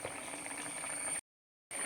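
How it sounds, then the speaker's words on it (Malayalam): A pot of fish curry bubbles at a vigorous boil up close, a dense steady simmering hiss that cuts out briefly, then returns. "നന്നായി വെട്ടി തിളച്ചുകൊണ്ടിരിക്കുകയാണ്"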